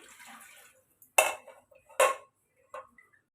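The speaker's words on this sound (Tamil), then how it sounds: "இப்போ ஸ்டவ் ஆன் பண்ணி கடாய் வச்சுருக்கேன்" A metal kadai is set down on a kitchen stove: two or three sharp clanks and rattles of pan on burner, spaced apart, close and fairly quiet, after a soft stretch of handling noise.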